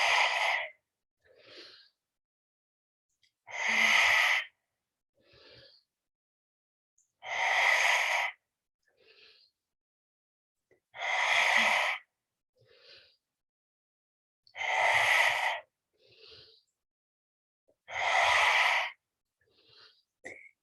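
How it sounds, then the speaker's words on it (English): Lion's breath yoga exhalations, six forceful open-mouthed breaths out at a regular pace about every three to four seconds, each followed by a quieter inhale, close and clear with no talking. "Exhale with lion's breath as you reach the heart forward."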